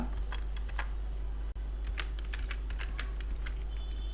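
Fast typing on a computer keyboard while entering a name into Tally TDL code, with irregular bursts of key clicks over a steady low background hum and no talking.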